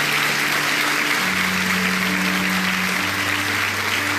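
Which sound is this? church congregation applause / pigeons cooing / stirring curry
church congregation applause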